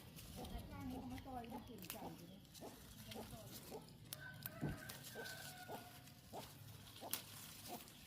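Chickens cluck in a garden while a rooster crows off and on, with scattered clucks, crows and clicks over a steady outdoor rustle and a faint background voice.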